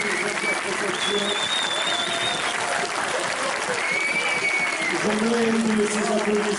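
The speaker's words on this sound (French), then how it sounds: "J'aimerais applaudir les interprétations." Steady applause from the audience at a preschool languages and cultures day in Luchon, a thick continuous clapping texture with high children's voices and chatter rising through it.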